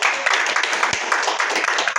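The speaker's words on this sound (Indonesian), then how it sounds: "Tepuk tangan buat Anda semua" Audience applause at a closing speaker session, a steady wash of many hands clapping at moderate loudness throughout, with a faint voice underneath.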